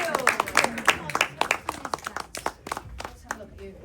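Scattered handclaps from a small group at a wrestling media scrum, sharp uneven claps for a few seconds with voices talking over them, fading toward the end.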